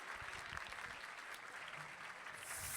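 A charity gala crowd gives sustained applause, a faint, steady wash of many hands clapping heard from a distance, with no gaps.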